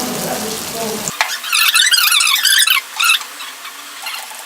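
Bread pieces fry in oil in a pan for bread halwa, with a sudden loud bubbling sizzle, crackling and popping up close after a moment of lower cooking noise.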